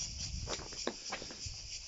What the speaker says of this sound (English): A lot of mosquitoes I can hear about